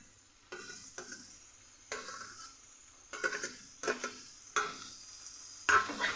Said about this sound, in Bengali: একসাথে ভালো করে ফ্রাই করে নেব।